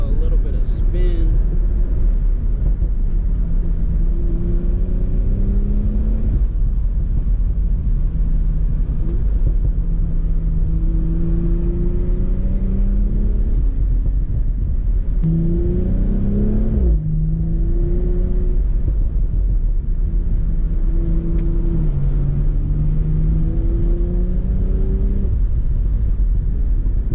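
A 2020 BMW M340i engine hums steadily from inside the cabin as the car accelerates, its low drone rising in pitch through several pulls, constant and fairly loud throughout.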